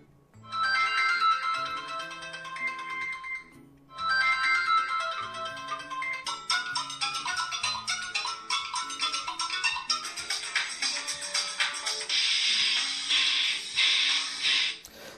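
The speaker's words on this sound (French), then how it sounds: "ce sont des sons de notification" A series of electronic notification chimes and ringtone-like melodies from a Switel eSmart M2 senior smartphone play one after another, bright and tonal, with short pauses between some of them.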